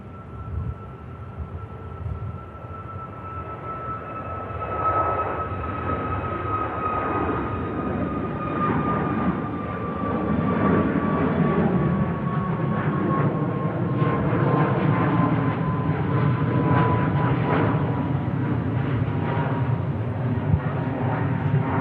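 A Ryanair airliner taking off at Manchester Airport, its engine roar building from a moderate rumble to a louder broadband roar with a high whine slowly gliding downward across the run.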